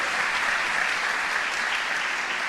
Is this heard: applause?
yes